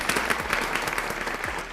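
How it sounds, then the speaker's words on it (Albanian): A studio audience and production staff at a talk show applaud together in a dense, steady burst of clapping that fills the room at close range. "një duartrokitje për të gjithë ne që jemi këtu si staf"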